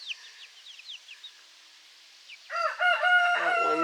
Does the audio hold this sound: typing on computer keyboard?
no